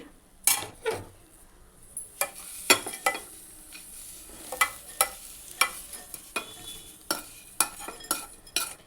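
Homemade muri mixture scooped and stirred into a serving bowl with a metal spoon, giving a steady run of bright scraping clinks and taps against the dish, close and fairly loud, with no talking.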